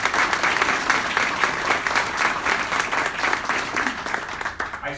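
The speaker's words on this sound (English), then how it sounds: "That deserves a round of applause." An audience at a mayor's award event claps steadily in a sustained round of applause, dense and even for several seconds before starting to fade.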